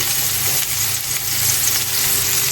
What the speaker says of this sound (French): on va laisser cuire un peu moyen fort jusqu'à ce que ce soit prêt